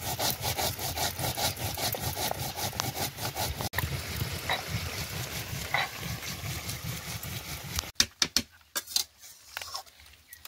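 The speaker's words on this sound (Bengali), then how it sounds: "এবার জিরে মরিচ দুটোকে একসঙ্গে বেটে নেব" Cumin and chilies ground together on a stone grinding slab in a Bengali home kitchen: a loud, steady back-and-forth scraping rub that runs for about eight seconds, then gives way to a few sparse knocks and scrapes.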